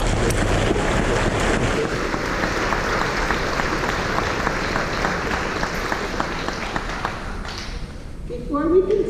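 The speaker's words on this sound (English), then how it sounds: "Let me give all of our parents and family members this evening a round of applause." An audience at a school board meeting applauds parents and family members, a sustained, fairly loud mass of clapping in a hall that fades slightly near the end as a voice begins.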